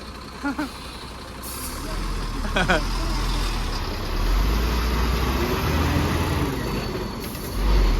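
A lorry truck's engine rumbles steadily nearby, with sharp air brake hisses bursting out twice above the drone and voices talking in the background.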